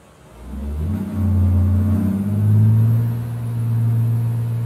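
A Setra S517HDH bus in Euro Truck Simulator 2 revs its engine with a deep, swelling roar that rises and falls in long waves, loud and steady, with no talk.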